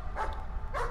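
In the horror video game Layers of Fear, a dog barks twice, each bark short and muffled, roughly half a second apart, over a low droning background.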